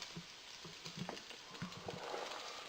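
Onions frying with beef mince in a pan for a home-made spaghetti bolognaise, a soft steady sizzle with faint stirring scrapes, quiet and continuous throughout.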